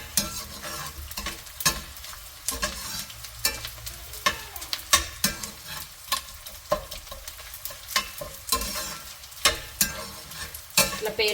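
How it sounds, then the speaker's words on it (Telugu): Protein laddu ingredients frying in ghee while being stirred, rhythmic scraping strokes over a soft steady sizzle, close up and without talk. "అదంతా పోయేంత వరకు మంచిగా ఫ్రై చేసుకోవాలి"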